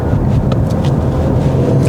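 A Genesis G70 3.3T on factory sport suspension drives along, giving a steady low rumble of engine and road noise with some wind hiss, close and even.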